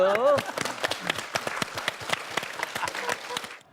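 A studio audience on a Korean television talk show claps in quick, distinct bursts while a voice briefly sounds at the start, and the applause thins out toward the end.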